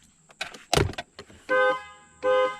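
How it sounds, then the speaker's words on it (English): Clicks and a brief mechanical clatter, then two short, loud car horn honks separated by a pause, recorded close, from a 2015-2020 Ford F150 during remote start testing. "Okay, so you see that light tap, the horn honked."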